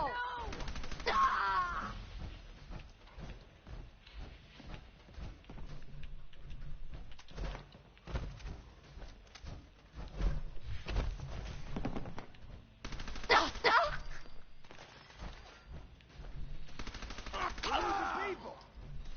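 Gunfire in Fallout 4, a long stretch of machine-gun bursts and single shots with repeated loud cracks, mixed with shouting and a groaning cry.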